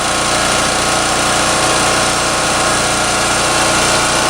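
A pull-start portable generator engine runs steadily after starting, a loud, constant close-up drone with a buzzing, vibrating hum and no pauses.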